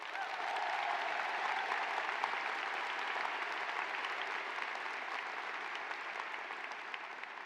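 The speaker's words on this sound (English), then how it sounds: "Please join me in giving Linda another round of applause." An audience at a college graduation ceremony gives a speaker a round of applause, dense even clapping heard from a distance, continuous throughout.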